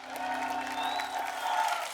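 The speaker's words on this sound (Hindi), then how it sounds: "आप सबकी जोरदार तालियों के बीच बुलाना" Studio audience applause on The Kapil Sharma Show, a dense, even clapping from a crowd that holds steady throughout, with music playing underneath.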